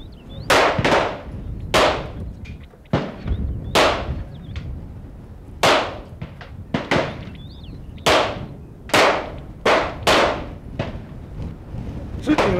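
Pistol shots crack at a shooting range in a fast, uneven string of about a dozen sharp reports, loud and close, with short pauses between bursts as if firing for speed and changing magazines.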